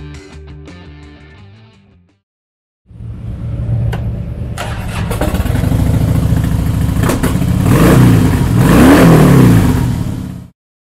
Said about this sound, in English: Powered by a 96 cubic inch V-twin motor, the Softail puts 92 foot-pounds of low-end torque through a 6-speed transmission.